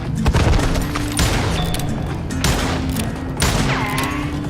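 Gunfire in the Western shooter Call of Juarez: Gunslinger, with repeated loud volleys of shots crackling close by over a rumbling, busy battle background and no talking.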